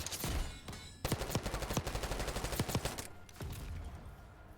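Dense bursts of automatic and single gunshots in a Call of Duty Black Ops 6 multiplayer match, loud and continuous with sharp cracks over a rolling battlefield din, no talk.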